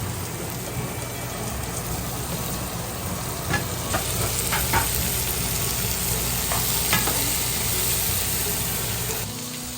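Peppers and tomatoes sizzling in a frying pan with oil and garlic, a constant crackling hiss with occasional scraping clicks of stirring, close and fairly loud, cutting off at the end.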